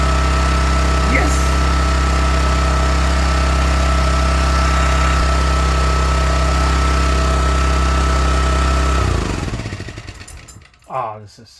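An old Honda EM400 generator engine runs at a steady, buzzing idle for several seconds, loud and close, then cuts out and winds down; a voice speaks briefly at the end.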